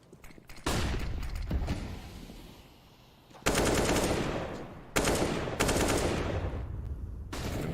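Gunfire during a professional Counter-Strike match: bursts of rapid automatic fire in three loud rattling volleys, each fading slightly before the next begins, with no commentary over them.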